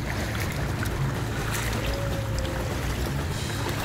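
A canoe moves across the sea on a Phuket island tour, with a steady rush of water and wind around the hull and surf noise throughout, fairly loud and unbroken, with no voices.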